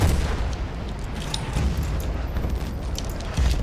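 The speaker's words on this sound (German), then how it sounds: "Ich hasse diesen Mörser irgendwie, wenn er in der Nähe nur einschlägt" Mortar shell striking close by in the online shooter Battlefield Bad Company 2, a heavy low boom with rumbling aftershocks and crackling debris, followed by a second deep thump near the end.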